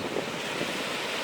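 Sea waves breaking on the beach at Itaparica island in Bahia, a continuous broad roar of surf mixed with wind buffeting the microphone, close and fairly loud with no voices.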